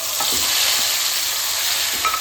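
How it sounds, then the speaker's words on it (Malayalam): Prawns for pickle frying in hot sesame oil in a pan, giving a loud, continuous, close sizzle that stays steady and unbroken throughout, with no talking. "ചെമ്മീനിട്ട് വറുത്തെടുക്കാം"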